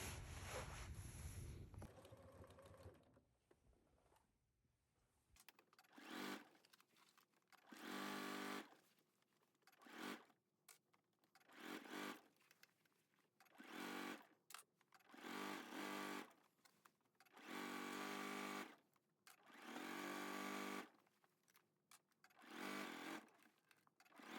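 A sewing machine stitches down a dress strap on a bodice, running in short repeated bursts with brief pauses between them, loud and close with no talking.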